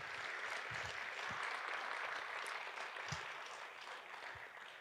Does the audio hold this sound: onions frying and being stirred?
no